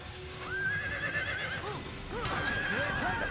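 A horse in the video game Assassin's Creed whinnies loudly twice in close succession, long wavering neighs over faint hoof clip-clop.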